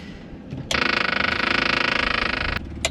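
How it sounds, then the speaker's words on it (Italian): Electric fuel booster pump in a light aircraft cockpit switching on, a steady buzzing mechanical whir starting abruptly, running evenly for about two seconds and then cutting off, heard close and alone. "booster pump"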